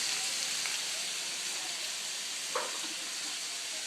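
Meat searing in a pan with rendered bacon fat and potatoes, a steady close sizzle and hiss throughout, with a faint clink or stir near the middle.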